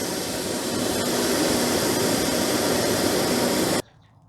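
An MSR Pocket Rocket 2 camping stove burner roars at full throttle, a loud steady jet-like rush that cuts off abruptly near the end.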